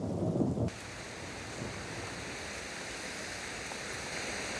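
A sudden summer downpour falls around a newborn water deer and her four fawns in the Korean wild, with a brief heavy rumble of thunder at the start giving way to steady, dense rain hiss.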